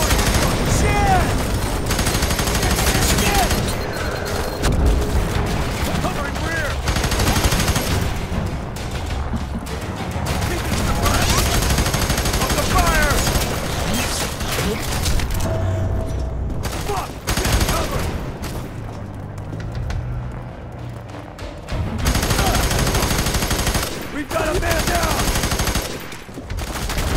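Dense, continuous gunfire from the video game F.E.A.R. 3, with rapid automatic bursts and loud blasts filling nearly the whole stretch, a short quieter lull partway through, and a voice talking over the action.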